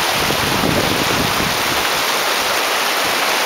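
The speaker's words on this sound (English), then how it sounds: "And here's Alex coming down Zig-Zag Rapids." River rapids at Zig-Zag Rapids rush loudly and continuously as a boat passes through, a dense close roar of churning whitewater filling the short stretch without pause.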